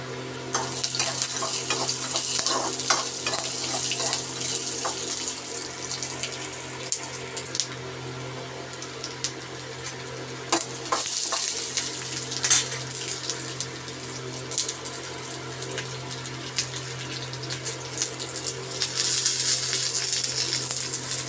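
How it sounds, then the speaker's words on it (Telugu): Bajji fritters with peanuts and curry leaves fry in hot oil, giving a steady bubbling hiss that swells and eases over about twenty seconds, with occasional clinks of utensils and no speech. "బజ్జీలు వేస్తున్నాను కదండి దాంట్లో పల్లీలు అండి పల్లీలండి కరివేపాకు మూడు అండి"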